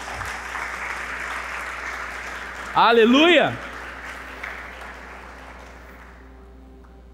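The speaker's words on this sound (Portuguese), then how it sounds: "Você pode aplaudir o Senhor por isso?" A church congregation applauds steadily throughout, broad clapping filling the room, with a short shouted voice cutting in midway before the applause slowly thins toward the end.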